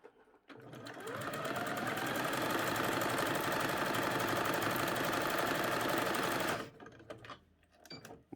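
A sewing machine runs steadily for about six seconds, stitching the raw edges of a bodice and skirt together, loud and close with a continuous whirring hum that stops abruptly near the end.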